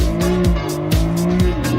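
Car tires squealing through a reverse entry drift in a driving simulator game, repeated loud rhythmic screeches over a sustained engine whine, close and alone.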